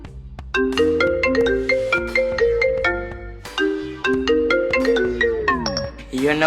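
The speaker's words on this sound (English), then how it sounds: "Go into ringtone and select the one you want." A custom ringtone plays on an iPhone, a loud, clear electronic melody of stepped synth notes in a steady rhythm with a descending swoop near the end, heard alone with no talk.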